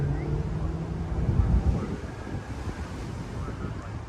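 Wind buffets the microphone on the coast, with a steady low roar of ocean surf underneath and rough gusts rising and falling throughout.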